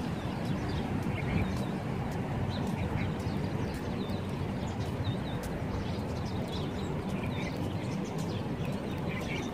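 Many birds calling over a dense, busy rumble of outdoor noise, scattered chirps and short high calls popping up steadily and fairly faint throughout.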